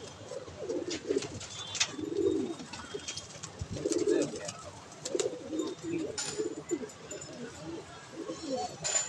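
Pigeons coo repeatedly in low, soft bursts, with occasional chirps and faint background noise around them.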